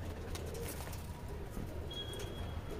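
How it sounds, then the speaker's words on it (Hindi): Low, soft cooing from Punjabi pigeons nearby in Delhi, steady and murmuring, with some faint outdoor background noise and a brief high tone. "ये सारे छतरी वाले कबूतर हैं।"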